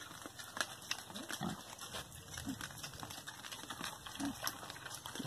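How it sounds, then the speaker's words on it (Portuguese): Pigs feeding on slop at a Brazilian farm pen, with scattered short grunts and oinks over a busy backdrop of chirping birds and steady animal noise, fairly close and moderately loud. "Porco comendo aqui, né?"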